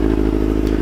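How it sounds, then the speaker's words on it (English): A motorcycle fitted with a Delkevic 8-inch 200mm slip-on exhaust idles loud and close in neutral, a deep steady rumbling throb over a very short moment. "when I'm at a standstill and a neutral and I pull this throttle, it sounds amazing."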